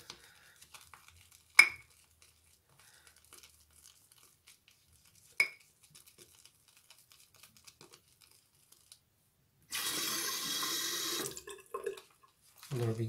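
Tap water runs in a steady splashing stream for about a second and a half into a sink during shaving-soap lathering, preceded by faint clicks and sharp knocks in an otherwise quiet room, with a voice starting at the end.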